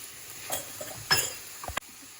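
Ivy gourd (tindora) curry with coriander being stirred in a pan, a few soft scraping strokes and a brief spoon knock over a faint sizzle, close and quiet.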